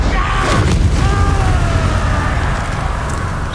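Explosive blast from the Confringo spell in a Harry Potter video game, a loud, close booming roar that rumbles on and slowly fades, with faint whistling tones over it.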